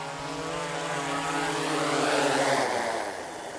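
A DJI Mavic Mini drone comes down to land, its small propellers giving a steady, fairly close buzzing whine with a slowly shifting pitch that keeps going for the whole stretch, with no talking over it.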